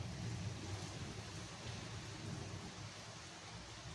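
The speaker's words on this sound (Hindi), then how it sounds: "आज भी बारिश बहुत अच्छा हो रहा है।" Rain falls outside in a steady, soft hiss, faint and continuous with no voices.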